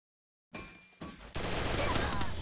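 Shotgun blasts from the battle royale game Free Fire, a couple of close, sharp bursts followed by dense sustained gunfire, loud and with no talk over it.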